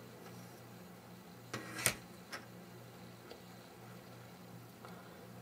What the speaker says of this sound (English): I have this crank attached to this green gear, and that turns this large blue gear.